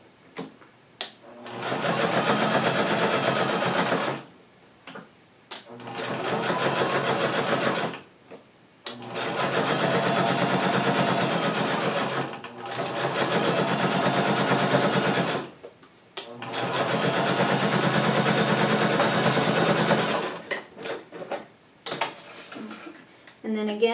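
Sewing machine stitching decorative seams on a stroller tote bag, running in four long steady bursts separated by short pauses, close and fairly loud, with no talk over the stitching.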